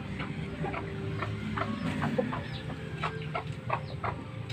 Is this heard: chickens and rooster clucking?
yes